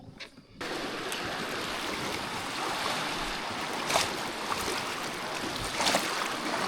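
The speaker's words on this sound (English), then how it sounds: "Nice little set of rapids here." Rushing water of a small set of rapids on the Missouri River, heard from a kayak as a steady, fairly loud broadband wash with brief splashes, no talking.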